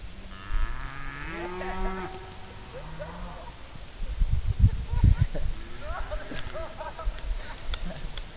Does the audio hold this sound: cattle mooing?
yes